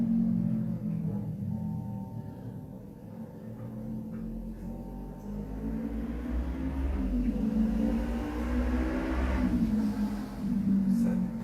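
A motorcycle engine drones in the distance, a low steady rumble that swells briefly near the end before settling again.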